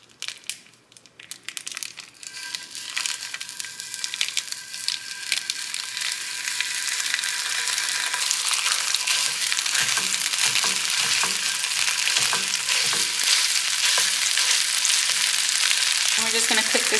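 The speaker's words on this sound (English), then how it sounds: "in a pan on low heat, I'm gonna add just a little bit of oil. This is just the same pan that the potatoes were in. And I split open my pork chorizo." Split pork chorizo hits hot oil in a pan, starting with some handling clatter before a loud, steady crackling sizzle builds and holds, close and continuous.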